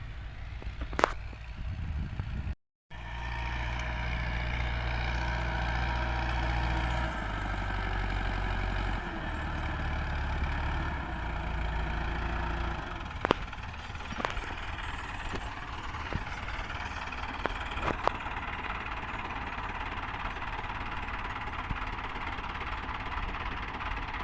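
An idling tractor engine left running in a village gives a steady low rumble throughout, broken by a brief dropout near the start and a few sharp knocks later.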